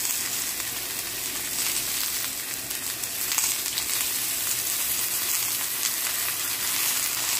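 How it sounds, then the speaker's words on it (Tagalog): Pata tim sizzles loudly and continuously in a pan as oyster sauce is poured in, a dense even hiss with faint bubbling. "Lagyan natin ng oyster sauce."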